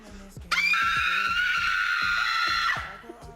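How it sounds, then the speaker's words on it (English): A woman's long, shrill scream rises sharply and holds steady for about two seconds before cutting off, loud and sustained over a faint rhythmic background pulse. "Coming on to number 4 is the female scream."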